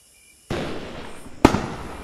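Fireworks explode in a Roblox boat-building game, producing two sharp cracking bursts followed by a crackling fizz. They sound loud and close, and no voices are heard.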